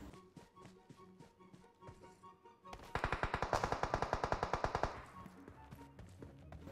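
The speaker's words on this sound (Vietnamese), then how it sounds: "bên trong nhà xe bắn ra rất là nhiều các bạn" Rapid automatic gunfire bursts out from inside a garage in PUBG Mobile: a fast, even string of loud shots lasting about two seconds, with scattered lighter shots before it and softer ones trailing after.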